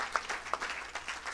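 Audience applause at a church gathering cheering for Jesus, steady moderate clapping with a few sharper claps, somewhat distant and filling the short moment.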